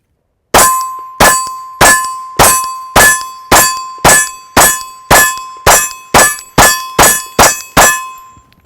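About fourteen sharp metallic rings from pistol rounds striking a steel target, spaced roughly evenly a half second apart, each clang decaying with a sustained bell-like tone that hangs between hits.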